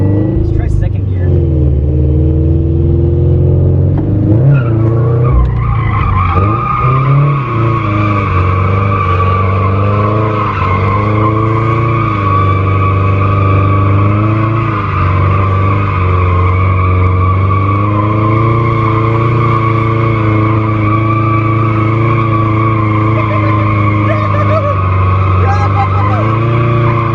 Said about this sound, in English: I rev up the car and then I dump the clutch and then it spins